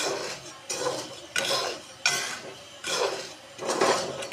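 Black chickpeas roasting in salt in a pot, stirred in slow rhythmic sweeps, each a gritty rasping scrape of the grains and salt against the metal, about five strokes, close and clear with no voices.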